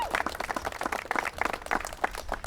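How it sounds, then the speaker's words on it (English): An audience applauds at a city youth workforce program launch event, a short burst of steady, dense clapping from a crowd close by. "It is worth an applause."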